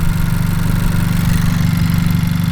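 A tenth-generation Honda Civic Si engine, flex fuel kit removed, idles loudly and close by with an even, rapid low pulsing and no speech.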